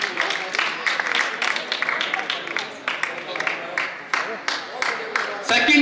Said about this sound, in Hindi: जोरदार तालियां किस महासम्राट अर्जुन के लिए, जोरदार तालियां है।